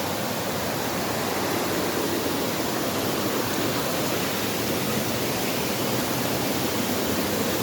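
A steady, dense roar of falling water fills the whole stretch, constant and loud with no pauses, close to a waterfall in Bataraza, Palawan.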